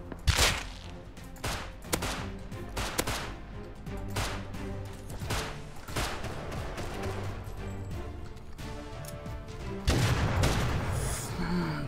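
Gunfire in the survival video game Rust, semi-automatic weapons firing in scattered bursts with sharp loud cracks and booming reports at varying distances, the volley intensifying toward the end.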